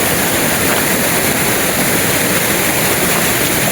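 Water flows steadily through a cave on a mountain stream, a dense, continuous rushing wash that stays loud and even throughout with no pauses.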